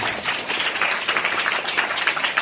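Audience applause in a Hindi church sermon hall, a steady dense patter of many hands clapping for about two and a half seconds, moderately loud with no talk over it.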